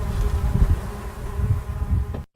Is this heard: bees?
yes